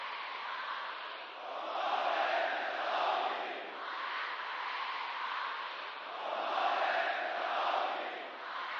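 A large crowd gathered in Iran produces a dense, continuous roar of many voices that swells and eases in slow waves, like massed chanting heard from within the throng.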